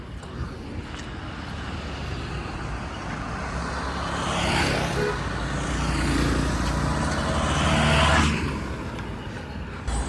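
A tempo goods vehicle approaching on a roadside, its engine rumble rising over several seconds to a peak and fading, with a second swell close behind, amid open outdoor ambience.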